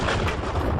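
Explosion sound effect in an audio drama: a loud, dense, rumbling blast with broadband roar that fills the short moment without any speech.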